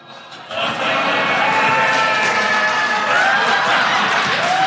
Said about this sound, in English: That cheering's for me.